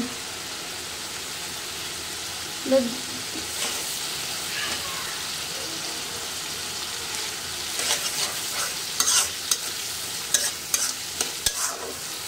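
Shrimp and bitter gourd sizzle steadily in a pan, a continuous frying hiss broken by a few scraping stirs and light clinks toward the end, close and fairly loud with no talk.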